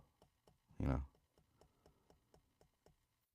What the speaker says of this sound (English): She's typing out instructions as we speak.